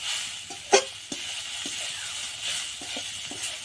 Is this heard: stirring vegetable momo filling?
yes